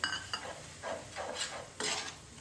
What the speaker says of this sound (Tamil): நான் கடலை மாவு போட்டு நெய்யில் வறுக்கிறத